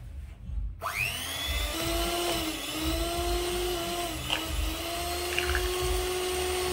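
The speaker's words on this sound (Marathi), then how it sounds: "आता हँड ब्लेंडर आपण ऑन करूया" An electric hand blender switches on to mix homemade ice cream, giving a steady, close, high-pitched motor whine that holds for several seconds with slight shifts in pitch as it churns.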